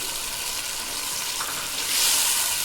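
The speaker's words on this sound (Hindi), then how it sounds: "इसे भी मैं अच्छी तरीके से भूनूंगी।" Masala frying with tomatoes in oil for degi beef haleem, a dense, even hiss of sizzling that swells briefly louder near the end.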